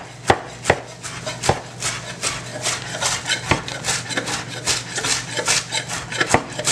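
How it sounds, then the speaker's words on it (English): Knife chopping fresh parsley on a cutting board for a Barbados pudding and souse dish, a quick, steady run of close, crisp taps that keeps going without pause. "I'm gonna chop up my parsley."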